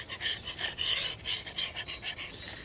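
A Kershaw Camp 10 knife edge being sharpened, with quick close rasping strokes repeating in a steady back-and-forth rhythm, alone with no voices.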